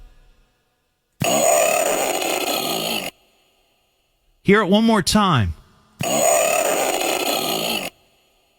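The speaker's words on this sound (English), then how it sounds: "this is a snort that she supposedly recorded" Two loud, harsh snorts separated by a pause; between them someone speaks briefly.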